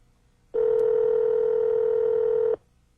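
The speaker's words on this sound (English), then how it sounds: "To dial a non-stored number, press the knob a second time." A BMW E38 car phone gives a single steady electronic tone lasting about two seconds, clean and loud, starting and stopping abruptly, with no talking.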